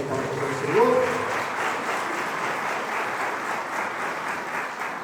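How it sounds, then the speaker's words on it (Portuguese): Church congregation applauding the Lord, a sustained wash of clapping that swells briefly near the start and then holds steady and even to the end. "Você pode dar uma forte salva de palmas ao Senhor?"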